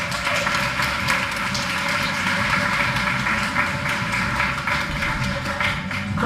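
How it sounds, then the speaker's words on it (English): A school audience applauds steadily at a spring teacher-of-the-year ceremony, the dense clapping loud and even throughout, with a faint steady tone humming beneath it. "Give her a big round of applause."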